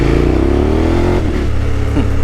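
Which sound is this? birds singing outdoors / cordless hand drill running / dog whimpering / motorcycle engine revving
motorcycle engine revving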